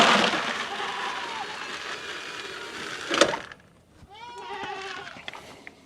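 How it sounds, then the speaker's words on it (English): Goats bleating at evening feeding time on a farm, loud wavering calls from several animals, some overlapping, with a short knock or crack midway and no talking. "the donkeys are yelling at me, the goats are yelling at me"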